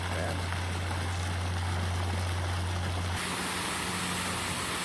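Water pouring and spraying at a waterfall, a steady broadband rush that stays constant throughout, with a low tonal hum for the first three seconds and no clear talk.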